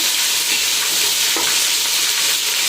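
Ginger paste frying in an oily pan for a gongura pickle, giving a steady, loud, close hiss of sizzling with a few soft stirring scrapes and no voices.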